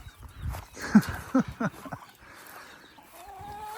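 Farm chickens cluck close by in a few short, separate bursts, then fade to a quieter background with a faint high tone near the end.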